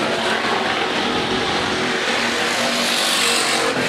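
Sportsman and B-modified race cars roaring around the Rapid Speedway dirt track during a heat race, a dense, loud, continuous engine wash from several cars near the line with no pauses.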